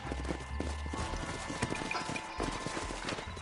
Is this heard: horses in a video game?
yes